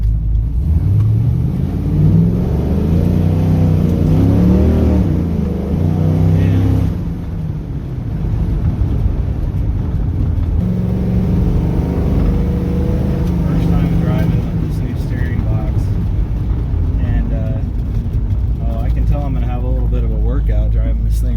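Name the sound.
car driving and accelerating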